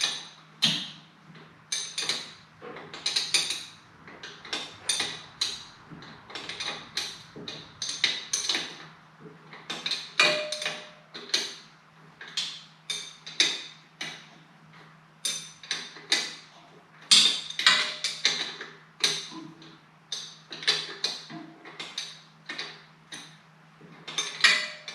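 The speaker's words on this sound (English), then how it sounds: "I'll have to remove this top nut first before I can remove the actual motor nut itself" A ratchet clicks steadily as it works a top nut loose on the rear cylinder head of a 1985 Harley Davidson FXRT Sport Glide, giving sharp close metallic ticks in a continuous rhythm.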